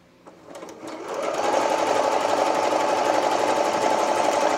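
A sewing machine runs steadily, stitching elastic onto the neckline of a romper; a few soft clicks come first, then a continuous close, even whir holds for several seconds with no talk.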